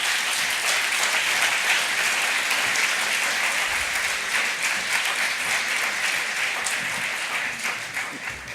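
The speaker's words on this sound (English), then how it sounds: "Another applause for Maja." Sustained applause from a conference audience after a talk on climate change and sustainable development, a dense, steady wash of many hands clapping that carries on throughout and fades slightly near the end.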